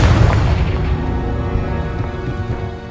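A Confringo blasting spell bursting in Hogwarts Legacy, a loud deep boom at the start trailing off into a long rumbling decay.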